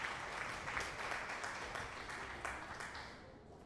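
Steady applause and cheering from a small group fills the whole stretch, dense and continuous, with a few louder claps standing out before it fades slightly at the end.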